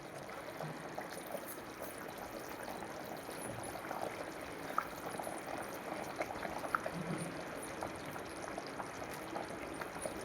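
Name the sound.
fish kalia curry boiling under a lid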